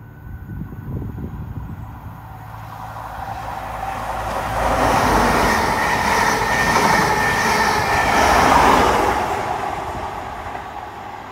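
A GWR passenger train from Cardiff Central to Penzance, led by a power car and made up of a castle set, passes at Dawlish Warren. Its roar builds and holds loud and close, with rolling wheel rumble throughout.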